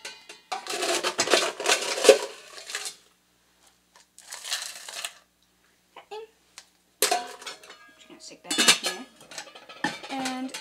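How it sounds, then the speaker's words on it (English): A spoon clinks and scrapes against a glass while stirring a mint julep mixture in circular motions, in loud bursts separated by short pauses, with brief quiet talk between them. "Then you use a spoon to mix it all together"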